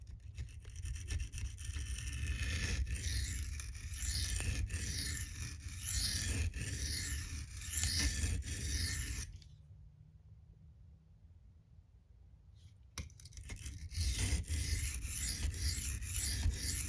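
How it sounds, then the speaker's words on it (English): An M390-steel Spyderco Manix 2 blade being reground on a coarse 240-grit silicon carbide stone, giving a steady, close scraping rasp in repeated strokes, broken by a quiet gap of about four seconds before the stroking resumes. "we'll go ahead and cut off our existing edge"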